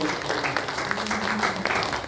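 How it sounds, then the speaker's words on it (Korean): A church congregation claps during a Sunday praise service, a lively mass of hands with uneven bursts and a low hum of voices beneath, fairly close and sustained. "우리 모든 영광 하나님께 박수 올려드리겠습니다"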